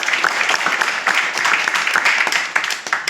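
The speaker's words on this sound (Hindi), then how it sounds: "इन सभी के लिए एक जोरदार ताली।" Audience applause at a motivational program gathering, dense continuous clapping from many hands at close range, loud and steady for a few seconds with no speech over it.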